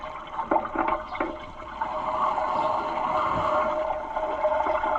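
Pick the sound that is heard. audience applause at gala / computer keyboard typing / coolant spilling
coolant spilling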